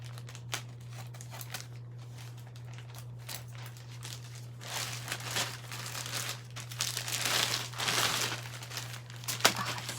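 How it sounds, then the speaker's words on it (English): Plastic wrapping crinkles and rustles as it is pulled from a bag, growing louder and busier toward the end, with a steady low hum beneath. "I need to take it out of the plastic."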